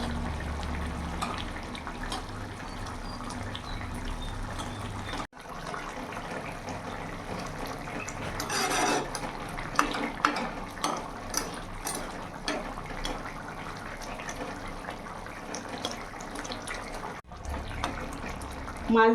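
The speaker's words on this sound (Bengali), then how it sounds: "এবার মাছ দিয়ে আমি এক থেকে দু মিনিট একটু ফুটিয়ে নেব" Small fresh carp-family fish simmer in boiling water in a pan on a gas stove, giving a continuous close bubbling hiss with scattered small pops and clinks throughout.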